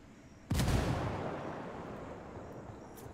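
A frag grenade explodes in Ghost Recon Wildlands, one sudden loud boom followed by a long rumbling decay that fades slowly over a few seconds, with no voices.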